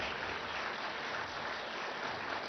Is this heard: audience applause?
yes